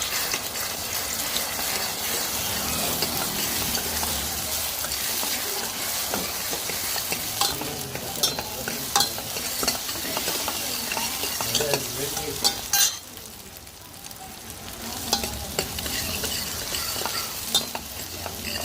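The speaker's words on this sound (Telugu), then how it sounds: "ఫ్రై చేసుకున్నాం. మనకి ఒక ఆమ్లెట్ అలా వచ్చింది." An omelette sizzles and fries in a pan with repeated stirring and scraping, a steady dense hiss with clinks of a utensil, no talking.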